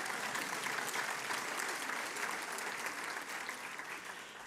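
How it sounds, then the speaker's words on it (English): A large audience claps for an onstage talk featuring the Prime Minister of Bhutan and Deepak Chopra, producing dense, steady applause that holds evenly throughout and fades only slightly at the end. "You can clap if you like."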